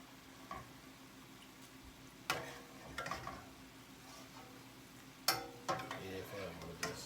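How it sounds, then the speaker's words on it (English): Chicken stir fry sizzles steadily in a hot pan while a utensil scrapes and clinks against it in several scattered strokes, moderately close and fairly quiet. "I'm probably gonna give this one more good stir before I add any of the Worcestershire sauce"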